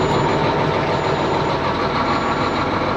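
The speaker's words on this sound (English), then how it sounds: "I'm just going to start this truck and then we'll get going." A 1993 Peterbilt cabover truck engine turns over and runs, a loud, steady, broadband diesel roar close by with no break, alone without talk.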